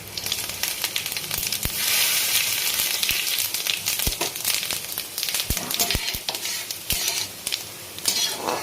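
Dry red chillies, bay leaf, cinnamon and cardamom sizzle in hot oil in a pan, with a steady crackling fry broken by sharp scraping and clinking stirs throughout.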